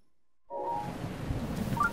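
Steady rain hiss with low thunder rumble in Zelda Breath of the Wild, starting abruptly after a moment of silence and continuing as a constant wash of downpour near the listener.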